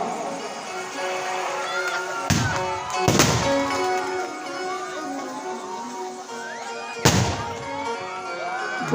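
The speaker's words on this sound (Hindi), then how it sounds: "अभी काय को आतिशबाजी कर रहा है" Fireworks burst during a Hindu Bhagavat katha at the telling of Krishna's birth, with several sharp, loud bangs over ongoing devotional music and crowd noise from the public gathering.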